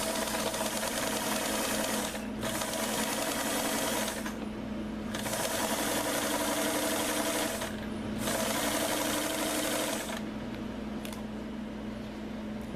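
A home sewing machine stitching a seam on a pair of trousers, its motor buzzing steadily for several seconds at a time, stopping briefly and restarting a few times.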